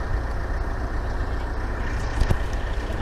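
A truck engine runs steadily with a deep, loud rumble during a test drive, holding a continuous low drone with a slight surge near the end and no talking.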